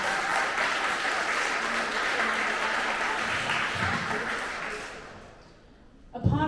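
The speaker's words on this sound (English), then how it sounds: "Let's give that an applause." An awards-ceremony audience for ink and clay art gives steady, full applause that fades out toward the end, followed by a brief close bump and rustle.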